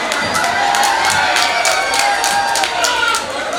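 An audience at a live comedy stage show in Rongamati keeps up loud, continuous cheering and shouting with scattered claps, a dense crowd roar lasting the whole moment.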